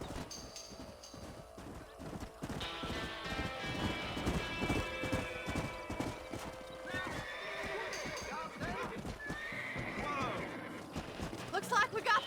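Horses in the Red Dead Redemption video game, galloping hooves pounding steadily and close, with neighs and whinnies rising over game music and a crash near the end.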